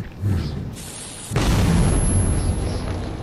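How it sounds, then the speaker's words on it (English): In the video game Metro 2033, a fire explosion erupts with a sudden loud, broad whoosh and roar. A softer rumble comes first, then the blast sustains as a dense, crackling burn right up close. "Then I accidentally caused some kind of fire explosion?"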